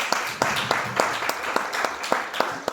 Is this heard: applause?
yes